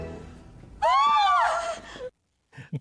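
A woman lets out a short, loud scream that rises and falls at the end of a 1960s-style movie scene, briefly following quiet film dialogue and ending with a couple of breathy gasps.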